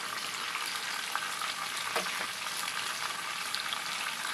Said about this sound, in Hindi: अब हम इसके अंदर ऐड करेंगे अदरक लहसुन का पेस्ट